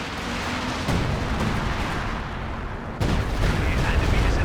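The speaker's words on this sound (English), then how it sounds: "Ooh, decent walking Stuka barrage" Walking Stuka dive-bomber barrage in a Company of Heroes-style WWII strategy match, a dense continuous rumble of overlapping explosions with a sharp jump in intensity midway, loud and sustained throughout.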